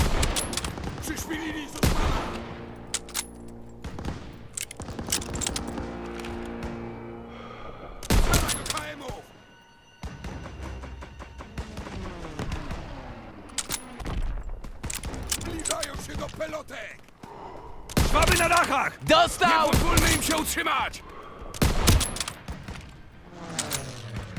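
Battlefield gunfire in Call of Duty: WWII: loud rifle and machine-gun volleys burst out again and again, with mechanical clanks and creaks between the bursts and a thick, continuous din of combat.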